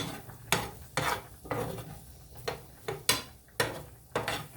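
Garlic cooks in a pan over low heat for a shrimp and spinach Alfredo sauce. A spoon scrapes through the pan in regular strokes about every half second, over a soft, close sizzle.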